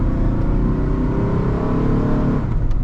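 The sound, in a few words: 2000 Ford Ranger 4.0 V6 engine accelerating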